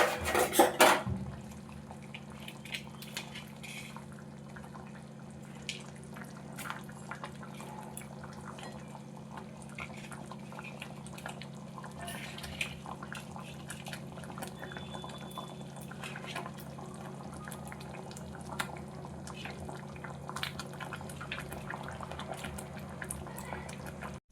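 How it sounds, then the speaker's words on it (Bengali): Rohu fish pieces slipped into a pan of boiling curry, giving a steady low simmering bubble with faint clinks of utensils against the pan and a sharper clatter at the start. "ঝোলটা ফুটে উঠেছে আঁচটা কমিয়ে কিছুক্ষণ হতে দেবো এটা খুব ভালোভাবে ফুটেছে ফুটে উঠেছে এর মধ্যে মাছগুলো ছেড়ে দেবো"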